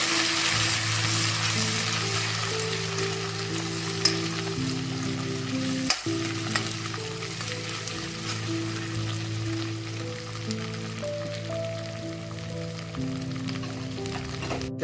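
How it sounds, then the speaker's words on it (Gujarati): Chilli, ginger and garlic paste fries in a pan with a dense, continuous close sizzle, stirred now and then with faint scraping and clicks, and no talking. "ત્યારબાદ આપણે મરચાં, આદુ અને લસણની પેસ્ટ આપણે રેડી કરી એ નાખી દઈશું"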